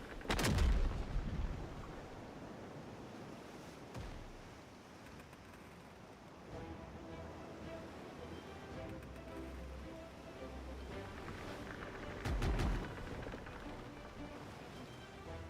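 Mortar artillery fire in Conan Exiles near the sea, with several heavy booms spaced apart, one near the start and another later, over a steady wash of surf and wind.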